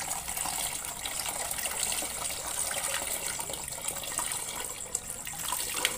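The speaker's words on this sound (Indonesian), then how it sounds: "Terus kemudian kita tambahkan air untuk menyiramnya." Water pours steadily over strained homemade boba pearls to rinse them, a continuous close splashing gush that runs loud and unbroken throughout, with no talking.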